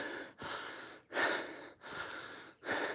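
Heavy breathing on a morning walk: about five loud, close breaths in a steady rhythm, each a rough, airy rush with brief pauses between, and no talking.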